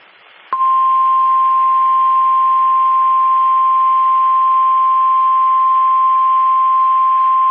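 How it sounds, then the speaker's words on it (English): A NOAA weather radio emergency alert system warning alarm tone sounds during a weekly test broadcast from the National Weather Service office in Aberdeen, South Dakota. After a brief quiet moment, a single loud, steady, unbroken tone begins and holds. "The warning alarm tone and the emergency alert system have just been activated."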